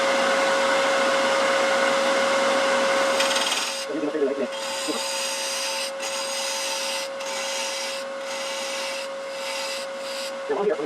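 Wood lathe facing a wooden cremation urn blank to form a tenon, with a loud steady whirring hum and rough scraping of the tool against the wood, broken by brief gaps and clatters.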